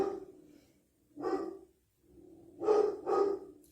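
A dog gives a guarding bark, several faint, somewhat distant woofs in a short burst, ending in two quick barks close together.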